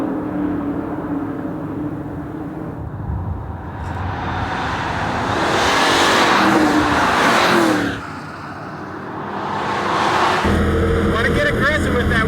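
A Ford Mustang is driven hard on a 1.6-mile road course at a driving school. Its engine drones and swells through repeated surges of acceleration, dips briefly, then builds again, loud and close throughout.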